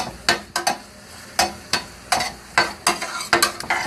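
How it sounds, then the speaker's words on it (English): Onions soften with garlic in a hot pan for a veggie burger, a low sizzle under repeated sharp scrapes and knocks of a utensil against the pan, stirred at an uneven rhythm, close and clear without talk. "We're just softening these onions and getting them good and stirred in with all that nice delicious garlic."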